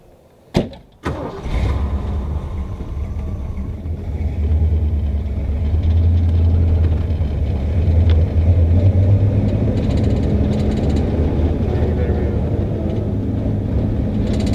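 A 1978 Ford Mustang II King Cobra V8 with a four-speed cranks briefly and fires up, settling into a steady, loud, low rumbling idle and rev that carries on close by without talk.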